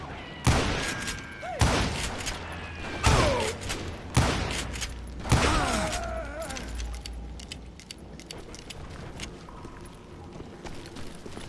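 Rifle shots in the western shooter Call of Juarez: Gunslinger, five loud, sharp cracks spaced about a second apart, each followed by ringing tails and metallic clatter, fading into quieter rustling afterward.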